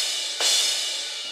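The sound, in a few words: crash cymbal sound on Donner electronic drum pad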